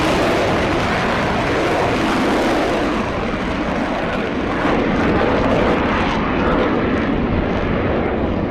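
A Rafale fighter jet flies, a loud continuous broadband roar of jet engine noise that stays steady and powerful throughout, with no other sounds standing out.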